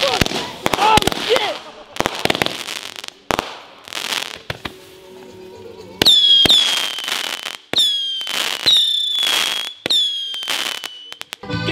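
A Paparazzi consumer firework is lit at a New Year's fireworks show outdoors, then fires off a rapid series of loud sharp bangs and crackling pops with whistling streaks, close by, while people talk.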